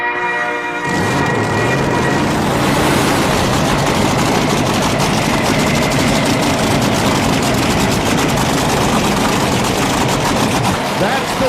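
A 7,000-horsepower Top Fuel nitro dragster fires up at Top Gun Raceway in Fallon, Nevada, and settles into a loud, continuous, rumbling idle that fills the air after a brief quieter start.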